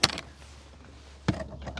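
A fly screen security door on a 2021 Leisureline Platinum 674SE caravan is swung open and latched, giving a sharp clack at the start and another latch click a moment later, with quiet in between.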